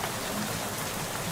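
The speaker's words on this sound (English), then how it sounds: "Oh, it's raining." Rain falls in the video game Shadows over Loathing, a steady dense hiss of drops with no pauses, moderately quiet and unaccompanied.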